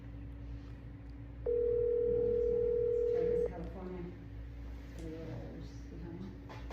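Steady dial tone of an outgoing telephone call lasting about two seconds, heard over a low background hum.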